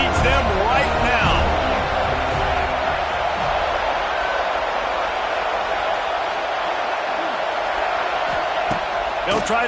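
A stadium crowd at a football game roars steadily and loudly on a third down, a continuous wash of noise with an announcer talking over it.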